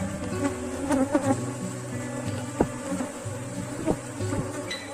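A honeybee swarm placed in a wooden hive box buzzes steadily up close, a dense layered hum with individual bees zipping past the microphone in brief louder passes.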